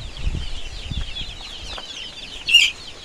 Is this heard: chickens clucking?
yes